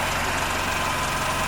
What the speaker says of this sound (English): So right now, we have it so it'll hold a steady idle.